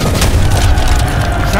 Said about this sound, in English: And these mortars are incredibly powerful.